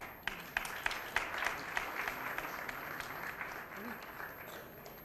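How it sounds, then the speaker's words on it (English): Audience applause at a press conference on colorectal cancer during a felicitation, a steady wash of many hands with a few sharper close claps at the start, moderate in level with murmuring voices underneath. "I think the clap should continue"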